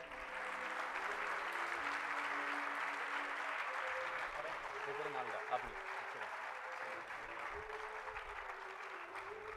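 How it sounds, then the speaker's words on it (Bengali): Sustained audience applause for a school headmaster monk at a captains' meet for an inter-Ramakrishna Mission football tournament; dense, even clapping from a large crowd lasting the whole stretch, with faint voices underneath. "একবার জোরে হাততালি হয়ে যাক।"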